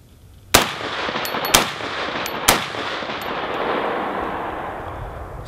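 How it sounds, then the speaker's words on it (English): Three heavy gunshots from a Mega Arms rifle chambered in .50 Beowulf fire about one second apart, each a loud sharp crack followed by a long rolling echo outdoors. "We're gonna try it today with our Mega Arms Beowulf rifle"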